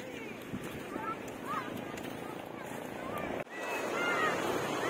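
On Abagatanen White Sand Beach in Agno, Pangasinan, where river freshwater flows out into the sea, surf and flowing water wash steadily while wind buffets the microphone, with faint voices in the background.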